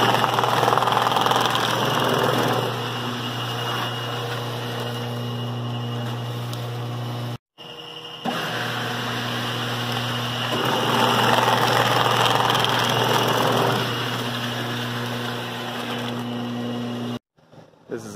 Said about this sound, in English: we will now demonstrate sewing a bag of wheat through the sewing line